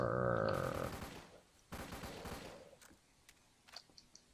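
Suppressed G3 rifle in a video game, heard as a short run of muffled, rapid shots after a sustained tone fades, followed by a few faint scattered clicks and mechanical ticks.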